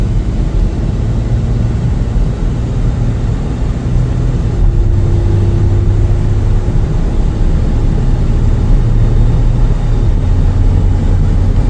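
A 2016 Ford F-150 XL two-wheel-drive regular cab long bed pickup on a test drive, giving a steady low engine drone and road rumble from inside the cab, with no talking.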